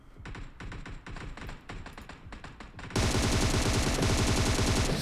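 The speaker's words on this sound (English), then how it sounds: "Shooting at vision, blowing up their car." Rapid bursts of automatic gunfire in the mobile battle royale game PUBG Mobile, first as sharp separated volleys, then a sudden dense, loud continuous barrage with an explosion as a car is blown up.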